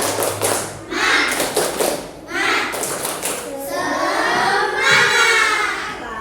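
A primary school class of fourth graders performs a rhythmic clapping chant together, bursts of sharp claps in patterned groups mixed with children's voices and some shouting, close and lively in a classroom.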